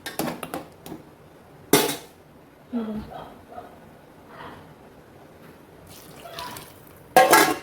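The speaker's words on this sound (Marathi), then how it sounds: "आता जे झाकणमध्ये जे पाणी आहे ते देखील मी यामध्ये ओतते आहे" Water from a pot lid is tipped into a pot of cooking mutton for a Kolhapuri tambda rassa, giving short splashes and metallic clanks of lid and pot, with quiet gaps between the bursts.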